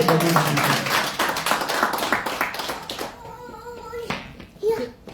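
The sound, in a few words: church congregation clapping and acclaiming God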